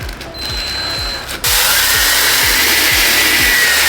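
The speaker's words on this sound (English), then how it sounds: "Now we're gonna move on to the bottoms with our drill." A power drill with a brush attachment scrubs muddy shoe soles, whirring with a bristly scrubbing hiss that grows louder and rougher partway through, steady and close, no voices.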